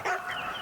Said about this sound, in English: what happens when you come into contact with what appears to be a vicious dog?